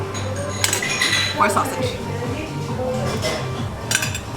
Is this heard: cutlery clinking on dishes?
yes